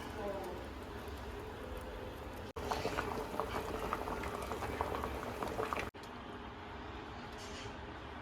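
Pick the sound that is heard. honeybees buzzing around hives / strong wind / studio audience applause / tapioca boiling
tapioca boiling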